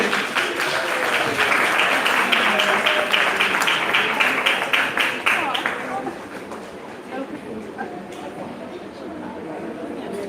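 A school audience at a Pre-K leaving exercise applauds past students, dense clapping loud and steady for about six seconds before thinning to scattered claps under crowd murmur and a voice.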